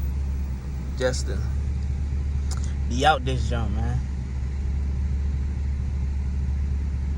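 An Audi TT drives along with a steady, low engine rumble that runs the whole time. Someone talks casually over it in short bursts.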